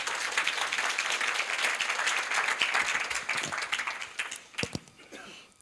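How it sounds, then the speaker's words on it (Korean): A university event audience applauds steadily for several seconds, the clapping thinning out into a few scattered claps before fading away. "다시 한번 박수 부탁드립니다."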